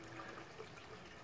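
Water pours from a pipe into a barrel in a 600-gallon aquaponics setup fed by a 300-gallon Rubbermaid stock tank of fish, making a steady, soft rushing splash with no breaks.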